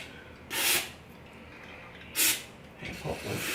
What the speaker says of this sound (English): Spray a contact cleaner on there so it cleans up everything.